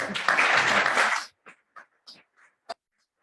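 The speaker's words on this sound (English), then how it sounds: "I think Luitgard deserves another round of applause" Audience at a university public lecture on financial markets applauds: a dense, loud burst of clapping for just over a second, then thinning to a few scattered claps.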